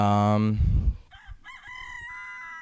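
A video game rooster gives a loud, close crow followed by a chicken's rough squawk and clucking, with a faint electronic game tone behind.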